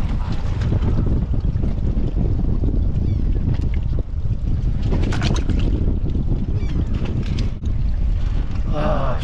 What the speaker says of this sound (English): Look at that thing going by. It's an interesting looking boat.